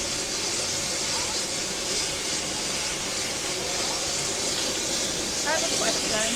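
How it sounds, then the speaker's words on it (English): Steam hissing steadily from a slightly leaking valve on a sorghum cooker, a broad continuous rush close by with faint background noise throughout. "I think the valve might be leaking a little, obviously, letting steam out"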